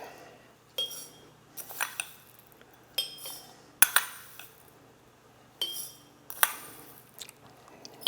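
Metal teaspoons clinking against glass jars as dry mustard and coriander seeds are spooned into the bottoms for dill pickles; a series of sharp, bright taps and rattles spaced out over several seconds, close and fairly quiet.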